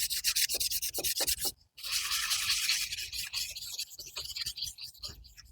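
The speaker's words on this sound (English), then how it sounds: "Let's give a good sanding for the magnet" Hand sanding of the flywheel magnet on a Dolmar LT 250 string trimmer, a steady close scratchy rubbing in quick repeated strokes with one brief pause partway through, no voices.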